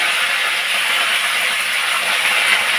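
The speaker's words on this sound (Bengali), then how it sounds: "এইবার আমি এর মধ্যে দিয়ে দেবো ওই কারি পাতাগুলো দিয়ে দিচ্ছি" Curry leaves hit hot oil already holding whole spices, giving a loud, continuous, even hiss of sizzling that holds steady without pause.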